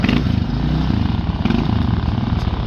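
A motorcycle engine running loud and close, with a steady throbbing, slightly clattery idle that pulses rhythmically throughout and has no talk over it.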